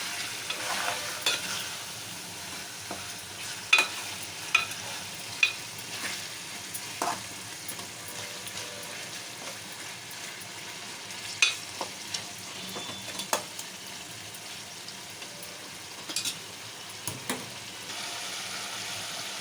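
Chicken pieces stirred in masala oil as they fry, a soft continuous sizzle with scattered spoon scrapes and clinks at an uneven pace throughout.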